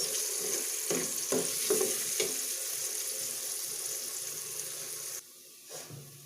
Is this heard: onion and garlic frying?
yes